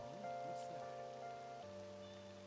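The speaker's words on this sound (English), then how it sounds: "I heard the rain front is gonna stagnate here for a while." Steady rain falls in Persona 5 Royal, a soft continuous hiss that runs beneath sustained game music throughout.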